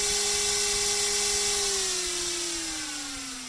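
A 775 DC motor running at about 21 volts spins at high speed, giving a loud, steady high-pitched whine that slowly drops in pitch as it winds down, with no voices.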